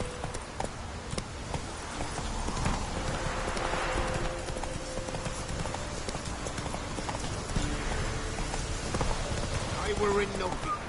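Roach the horse trotting in a PS4 video game, steady rhythmic clip-clop of hooves with rain pattering in the background, under occasional talk.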